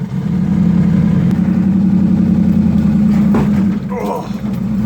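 Car engine during a road test in an Impala, a loud steady mid-pitched rumble running throughout, easing briefly near the end before resuming.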